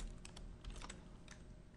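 Quiet, close-up taps on a computer keyboard come in a short burst of a few quick keystrokes.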